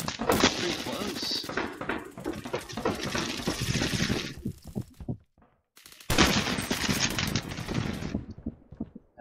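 Rapid automatic gunfire in the Phantom Forces shooter game, dense sustained bursts with a brief gap near the middle before firing resumes, loud and close.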